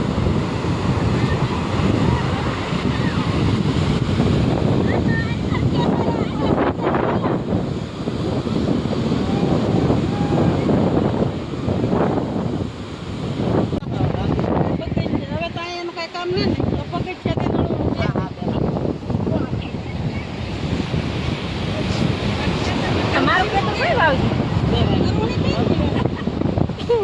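Sea waves wash onto the shore in a steady, rushing wash, mixed with wind buffeting the microphone, while people talk nearby.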